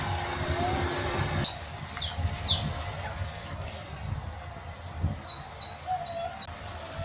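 Birds in an enclosure on Grand Cayman give a rapid series of high chirps, moderately close, over low background rumble and murmur.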